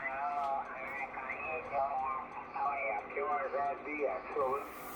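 Yaesu FT-901DM ham radio scanning the 20-meter band through a 4-element Mosley beam, picking up distant stations as warbling, garbled sideband voices over a steady hiss of static and a faint hum.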